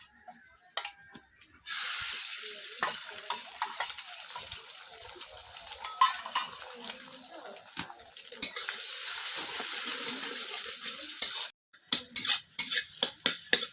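Egg being stirred and fried into bhujia in a pan, with a continuous bright sizzle broken by repeated scraping and clinking of a utensil against metal, close and moderately loud.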